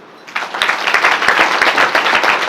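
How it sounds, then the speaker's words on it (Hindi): A church congregation claps together, a crowd of hands rising from quiet into loud, rapid, slightly uneven applause that keeps a rough rhythm throughout, with no voices over it. "जांजा के लोगों के लिए ताली बजाओ।"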